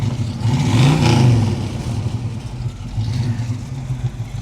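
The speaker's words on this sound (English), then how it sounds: "Rev the engine for me," The engine of a 1967 Pontiac Firebird convertible revs up once to a throaty peak, then settles back into a steady, rumbling idle close by.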